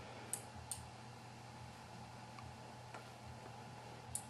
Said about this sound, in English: So let's get the microphone real close to it. Maybe you can hear it clicking.